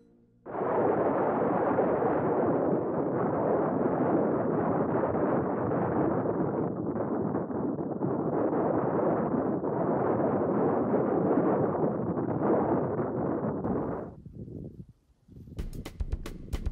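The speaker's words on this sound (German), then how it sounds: "Der Wind wird auch stärker." Strong November wind near the summit of the Kampenwand roars as a loud, steady buffeting across the microphone for about fourteen seconds, then drops away abruptly into quieter rustling.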